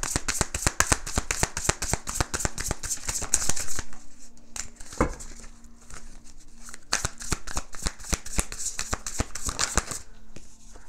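Tarot cards being shuffled up close: rapid riffling bursts of crisp card flutters, a quieter pause in the middle, then another fast run of shuffling, with no talk.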